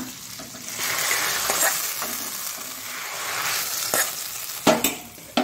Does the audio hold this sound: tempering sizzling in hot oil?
yes